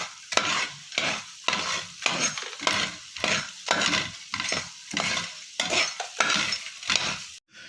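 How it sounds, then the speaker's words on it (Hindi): Fox nuts (phool makhana) frying in leftover ghee, stirred in a rhythmic series of scraping, sizzling strokes about twice a second, close and fairly loud, with no talking. "उस बचे हुए घी में ये वाले फूल मखाने हैं, इनको हम अच्छी तरह से फ्राई करेंगे।"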